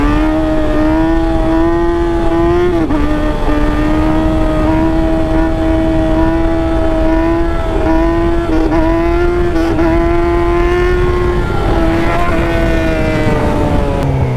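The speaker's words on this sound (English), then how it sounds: "Whoa, burnout." A 2018 Yamaha R6 sport bike holds a loud, sustained high-pitched engine wail through a burnout, the tone dipping and rising slightly as the revs waver, close and continuous.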